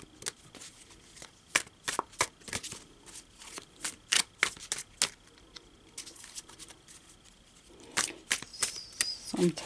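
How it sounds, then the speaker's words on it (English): Tarot cards being shuffled and drawn from a deck: a run of crisp, close snaps and riffles with brief soft slides between them, and louder flicks near the end. "we're going to pull out 3 cards today"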